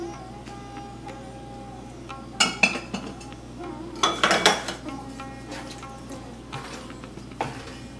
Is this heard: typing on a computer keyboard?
no